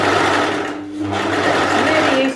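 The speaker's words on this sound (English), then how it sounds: "It's really useful to have your overlocker and neaten up seams and things like that" An overlocker runs steadily, neatening fabric seams for a jacket, a continuous close whirring hum for a couple of seconds that dips briefly in the middle.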